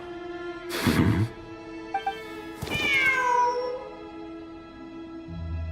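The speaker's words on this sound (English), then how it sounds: "The cat!" A cat in a video game meows twice, a short cry and then a longer drawn-out falling meow, over a steady humming game soundtrack.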